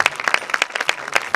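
Scattered, fairly close hand claps at a short film festival as jury members are introduced, a small audience clapping unevenly in a brief burst.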